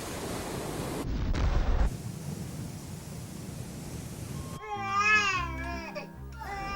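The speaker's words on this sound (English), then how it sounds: "A child screaming is just about the most stressful noise on the planet." A steady road rumble fills a car cabin, then a child's loud, wavering screams and wails break out close by for the last couple of seconds.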